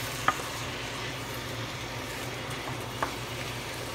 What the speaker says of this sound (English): We're just gonna saute it for a while.